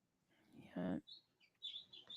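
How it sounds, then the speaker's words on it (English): Birds chirp outside a window, giving faint high tweets in short bursts after a brief murmur of talk, quiet and distant. "those birds are outside your window?"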